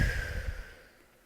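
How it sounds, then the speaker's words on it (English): A single deep breath let out slowly, a soft airy exhale that starts close and full, then fades to quiet over about a second. "I want to invite you to take a deep breath with me."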